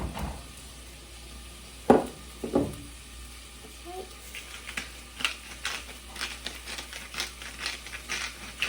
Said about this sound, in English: into my pot goes the fresh grated ginger, the onions, the garlic, and I'll add some salt and pepper right into that oil to start to cook down